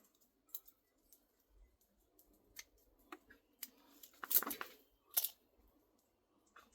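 Scissors snip through a plant stem during planting, giving a few sharp close clicks and snaps with brief rustling between them against an otherwise quiet background.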